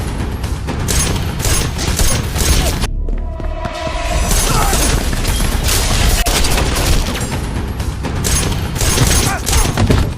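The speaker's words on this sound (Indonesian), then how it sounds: "Terjadi aksi saling tembak di antara mereka." A gunfire exchange in a movie shootout, with dense overlapping shots and bursts over a loud film soundtrack, continuous and intense apart from one brief lull.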